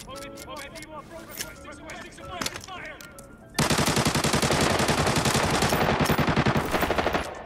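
RPK machine gun fire in a shooter video game, starting with scattered shots and game noises under a voice, then a sustained loud burst of rapid automatic fire for several seconds.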